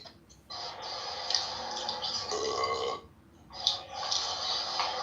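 Two long, loud, gravelly burps, the first stretching over two seconds and the second following after a short pause, close to the microphone with no talking.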